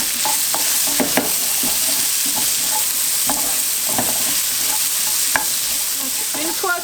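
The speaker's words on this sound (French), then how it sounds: "mon oignon rouge. Je vais le faire revenir un petit peu." A red onion fries and sizzles in a pan with a steady hiss, while close, irregular clicks and scrapes of stirring break through. No one speaks.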